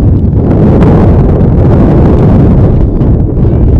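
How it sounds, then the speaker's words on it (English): Heavy wind gusts buffet an outdoor microphone at a rugby all-star championship match, a loud low roar that rumbles on without a break. "the wind picks up to about a steady 15 miles an hour with some 20-mile-an-hour gusts"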